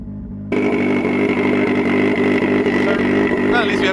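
A 300BHP Mazda MX5 drift car's engine drones loud and steady, held near 5000 rpm and refusing to climb as it breaks down, with constant in-cabin engine noise throughout and a brief higher whine near the end.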